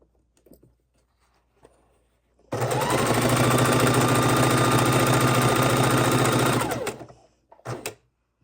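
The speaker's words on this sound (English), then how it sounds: "we're just chain stitching them on" A sewing machine chain stitches quilt block pieces together with 1/4 inch seams, running in one loud, steady burst of several seconds, framed by faint handling and a short clack before and after.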